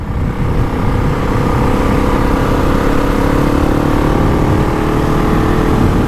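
A GasGas ES 700 motorcycle being run in at steady highway speed, its engine droning evenly at moderate revs without hard acceleration, close and continuous over wind noise, no voices.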